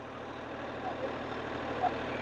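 A Sonalika 745 tractor engine runs at 1600 rpm during a plough demonstration, making a steady, low, continuous drone with a few faint higher squeaks on top.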